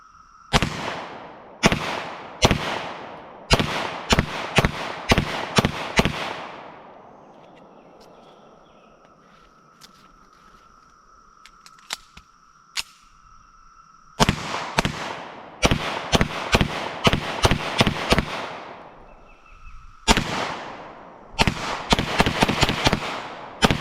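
A Kimber 1911 Next Generation pistol fires in two strings of sharp, loud shots, about six to eight rapid cracks each with ringing echoes, separated by a quiet pause with faint handling clicks.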